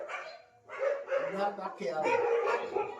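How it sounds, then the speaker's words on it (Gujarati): Street dogs bark repeatedly in a residential lane, the barks overlapping with a person talking close by throughout. "જો ચાલુ થયા અમારે કૂતરા. કાંઈ સંભળાવા જ ન દે."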